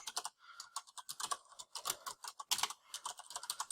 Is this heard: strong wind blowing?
no